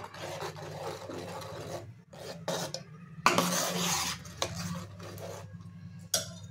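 A spoon scraping and rubbing around a pan while ghee is stirred into phirni, a sweet rice pudding, in uneven rasping strokes with short pauses and a faint steady hum underneath.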